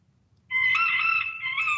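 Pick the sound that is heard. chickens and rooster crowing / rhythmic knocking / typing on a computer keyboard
chickens and rooster crowing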